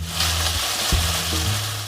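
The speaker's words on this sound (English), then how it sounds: "A lot of things sound like rain. Sizzling bacon," Steady crackling sizzle of bacon frying in a pan, used as a rain sound effect, dense and close, with a low hum underneath and no voices.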